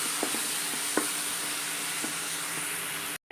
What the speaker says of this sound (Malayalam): ചെറുതായിട്ടൊന്ന് വഴറ്റി കൊടുക്കാം.